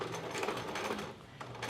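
A sewing machine stitches fabric for Minnie Mouse ears, a fast, even mechanical chatter running continuously at close range, fairly soft, with no talking.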